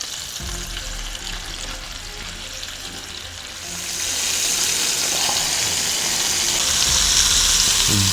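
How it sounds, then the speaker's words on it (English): Steady, loud sizzling of butter chicken skewers frying in hot butter, a constant crackling hiss that grows a little brighter partway through. "This is after 10 minutes of frying butter chicken skewers."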